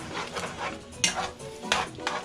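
A spoon stirs a pot of rice-dish base with olives and chopped cilantro, giving a few close scraping and clinking strokes over a soft, brief background sizzle.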